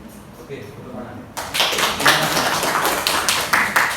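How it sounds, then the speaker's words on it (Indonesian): A secondary-school class in Surabaya breaks into applause during a micro-teaching lesson, with brisk overlapping claps close by for about two and a half seconds after a quiet start. "Oke, tepuk tangan."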